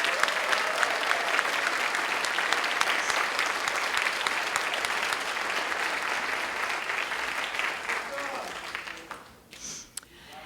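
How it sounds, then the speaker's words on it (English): Sustained applause from a graduation audience at an adult education ceremony in Rockland, a dense steady wash of clapping that fades out toward the end, leaving a few scattered claps. "Please give them a round of applause."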